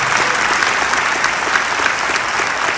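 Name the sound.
applause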